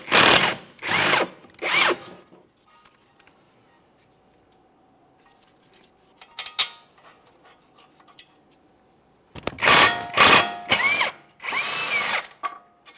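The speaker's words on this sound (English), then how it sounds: "The caliper bracket bolts are 17mm headed bolts, so we can start removing the upper bolt." A power tool on a 17mm caliper bracket bolt of a 2014-2019 Toyota Corolla front brake, several short loud bursts of whirring with quiet gaps between, close by and with no talk.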